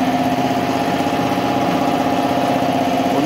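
Air compressor running to feed a CUT 45G plasma cutter used for cutting steel plate, a loud, steady mechanical drone with a constant hum, heard close and alone.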